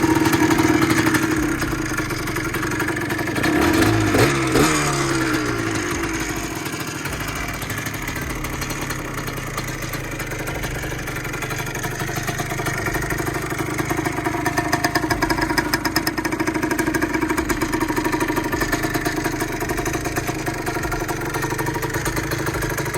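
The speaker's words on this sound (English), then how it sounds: "let's give it some revs and call it a good" A Yamaha Blaster ATV engine runs steadily on its own, with a brief rise in revs early on before settling into a continuous, fairly loud buzzing idle.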